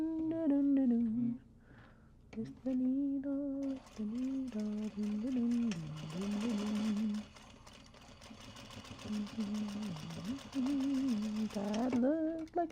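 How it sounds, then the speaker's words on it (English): A sewing machine top stitches a bag made of Japanese fabric, running in several sustained whirring stretches with brief pauses. A woman hums and sings along over the motor. "now we'll go in and top stitch"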